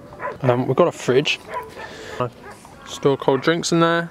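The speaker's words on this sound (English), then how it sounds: "excuse the dog barking" A dog barks repeatedly in short yips and woofs at a tent campsite during a photography trip in Egypt, mixed under close continuous talking from a person.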